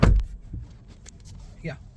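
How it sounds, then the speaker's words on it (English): The door of a JSW MG Windsor EV closes with a solid thud at the very start, followed by quiet cabin sounds and faint light clicks. "So let me just shut the door."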